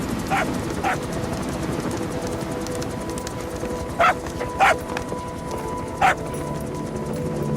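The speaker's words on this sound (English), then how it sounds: "Here's the dog you brought back. Bit of a troublemaker." A dog in the video game Metal Gear Solid V gives several short, sharp barks, spaced irregularly over a busy in-game background of steady ambient noise.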